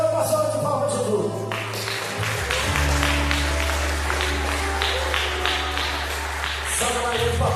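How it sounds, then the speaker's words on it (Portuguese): A church congregation claps during a Sunday worship service over sustained keyboard chords and low bass tones, a continuous patter of hands running throughout at moderate loudness. "uma salva de palmas de Jesus"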